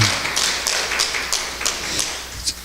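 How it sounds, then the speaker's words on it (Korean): A church congregation breaks into applause, a short run of quick, close, crisp claps that patters on for a couple of seconds. "박수 한번 쳐주세요"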